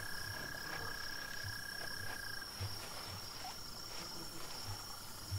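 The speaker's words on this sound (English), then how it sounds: "I hear toads and stuff." Toads croak in a low pulsing rhythm through a steady night-ambience wash in the Saurian dinosaur video game, with a thin insect whine above and no talk.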